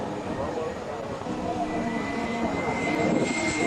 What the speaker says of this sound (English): And so then I did this jet here, which isn't very big. It's only 48-inch wingspan with the same kind of fan system.